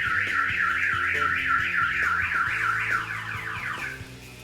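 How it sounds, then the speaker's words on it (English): Clifford aftermarket car alarm on a BMW 325i, a loud, steady, continuous warbling siren cycling rapidly up and down in pitch, close to the car and with no voices over it. "alarm fires off."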